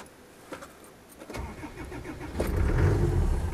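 A Land Rover Defender 90 2.5 turbo diesel County Station Wagon with newly fitted injectors cranks over after a quiet moment, catches quickly and settles into a steady, rumbling idle that grows louder toward the end.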